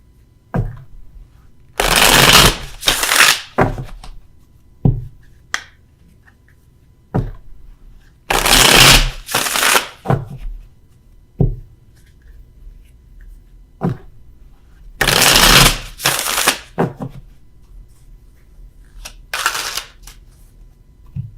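Tarot cards shuffled by hand in a quiet room: three loud bursts of riffling and rustling, each lasting about two seconds, separated by softer taps and card clicks, with no talking.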